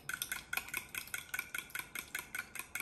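Brown soda bread dough beaten in a bowl, a fast even rhythm of light clicking and slapping strokes, about four per second, close and steady with no talking.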